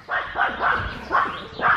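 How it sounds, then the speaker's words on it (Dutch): Several small dogs barking in a rapid, overlapping volley of sharp yaps, close and loud, raising the alarm with no talk over them. "Zo zie je maar die kleine hondjes, je wordt knettergek ervan. Als die eenmaal alarm slaan."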